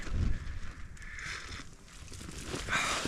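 Gusty wind flaps and rustles tent fabric close by at a wild camp on the West Highland Way, with broadband buffeting that swells and eases over a few seconds.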